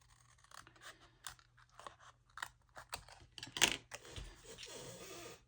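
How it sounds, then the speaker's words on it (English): Paper scissors cut through craft paper in a run of short crisp crunchy snips at irregular intervals, close and fairly quiet, with no talking. "And these are paper scissors."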